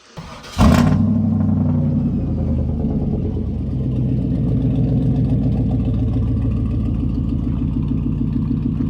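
A truck engine turns over and catches, then settles into a loud, steady low rumble that runs unbroken as the truck with extended upper control arms is pulled forward.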